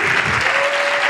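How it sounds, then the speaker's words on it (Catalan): An audience at a Barcelona science dance show claps in dense, loud, sustained applause for the whole short moment. "Un gran aplaudiment."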